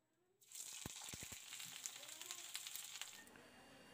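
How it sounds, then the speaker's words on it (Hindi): Jackfruit pieces dropping into hot oil in a kadai set off a sudden loud sizzle, with a few sharp clinks early on, then a steady close crackling fry that eases slightly toward the end. "हम इसमें अपने कटहल के पीस को फ्राई करेंगे।"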